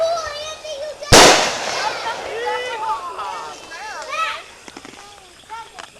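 A firework bursts with one loud sharp crack at close range as it shoots out balls. Excited voices and chatter fill the time around and after the blast.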